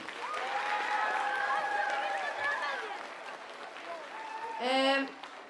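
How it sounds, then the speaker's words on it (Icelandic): Applause from a school audience at a youth talent festival, a sustained wash of clapping and cheering voices at moderate level, with a brief louder burst near the end. "við skulum gefa Myllubakkaskóla enn betra klapp"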